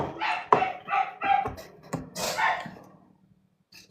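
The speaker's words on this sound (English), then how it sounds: "my dogs are not happy" Dogs barking in a burst of sharp, repeated woofs, fairly close and loud, with a few rapid barks and yips before falling quiet.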